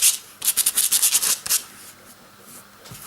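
Brush scrubbing paint onto a model retaining wall of plastic card, a quick run of dry, close rasping strokes that stop after about a second and a half, leaving near-silence.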